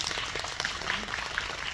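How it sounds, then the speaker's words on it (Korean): Audience applause at a Korean film screening Q&A for Veteran 2 with the director and actor present: a soft, continuous patter of many hands clapping, heard at a distance and without speech on top. "여러분 큰 박수 부탁드립니다"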